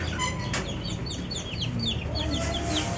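Chickens cluck repeatedly over a steady, noisy farmyard background, with some chirpy bird calls mixed in throughout.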